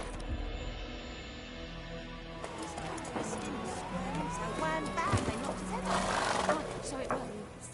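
Roach, a horse in The Witcher 3 video game, whinnies in a drawn-out wavering neigh midway, with hoof clip-clops and background game ambience, under a man's speech.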